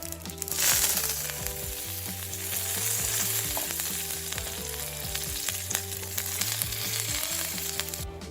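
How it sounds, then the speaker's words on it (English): Mustard seeds sputtering and popping in hot oil, with curry leaves dropped in for a steady, close sizzle scattered with sharp crackles throughout. "Now it's starting to sputter, so we're going to add in the curry leaves."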